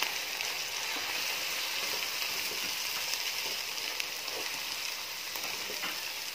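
Spices and green chilli fry in a pan with a little added water, giving a soft, steady sizzle and crackle at low volume, close by, with occasional stirring and no talk.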